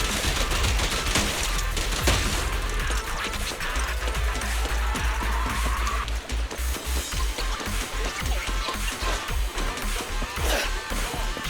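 Rapid gunfire bursts and impacts from the Zenless Zone Zero video game, dense and loud, with continuous clattering shots and crashes throughout.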